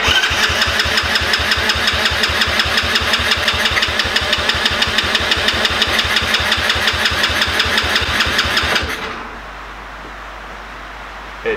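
A Honda Cubman motorcycle engine, mid-rebuild, runs with a steady rapid pulsing chug after its empty carburettor is primed. It stays loud and close for about nine seconds, then cuts out abruptly into near silence.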